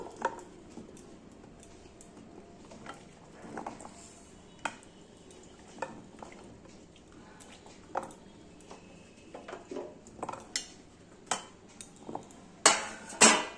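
Half-boiled cut papaya pieces for a papaya and soybean curry tumble into a pot with scattered clinks and soft knocks of metal cookware, a few sharper clatters near the end, close and fairly quiet.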